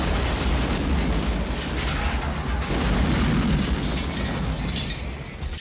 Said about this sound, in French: la fabuleuse explosion du motel.